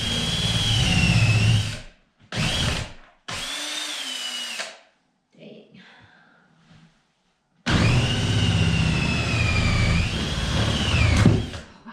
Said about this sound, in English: drilling through green wood is completely different than drilling through dry wood